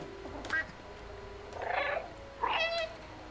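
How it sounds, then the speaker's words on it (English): Two short meows follow a faint chirp, separated by pauses, over a quiet background hum, with a slightly synthetic tone, from a kitten in the video game Stray. "So what if you try meowing?"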